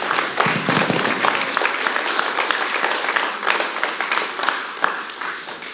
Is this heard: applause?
yes